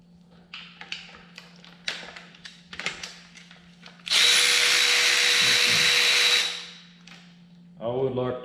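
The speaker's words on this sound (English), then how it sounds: "Go ahead and pull injector hold down bolt." A power tool spins out the injector hold-down bolt on a DT239 diesel engine from a TD8E dozer, a loud whirring burst of about two and a half seconds, preceded by light clicks and taps.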